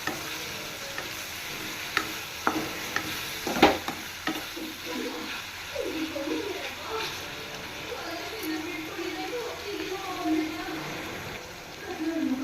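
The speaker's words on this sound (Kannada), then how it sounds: "ಮತ್ತು ನೆಕ್ಸ್ಟ್ ಕೊತ್ತಂಬರಿ ಸೇರಿಸ್ಕೊಂಡಷ್ಟು ಚೆನ್ನಾಗಿ ಮಿಕ್ಸ್ ಮಾಡ್ಕೋಬೇಕು ಈ ರೀತಿ" Tomato and coriander masala for an egg gravy is stirred in a pan, a spoon scraping and clinking in a steady rhythm over a soft sizzle, with a few sharper knocks early on and talk faintly beneath.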